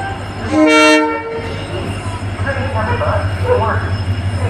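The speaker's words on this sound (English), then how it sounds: "Train is arriving now." A loud train horn blares for about a second, then the rumble and rattle of the Chandigarh Express rolling into a platform in India continues, with faint voices underneath.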